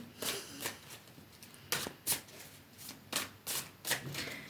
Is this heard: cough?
no